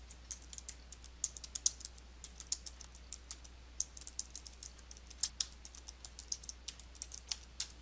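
Keys clack in a quick, uneven run on a computer keyboard while text is typed into Adobe Photoshop Elements 2022, each press a sharp, close click with short pauses between bursts and no voices.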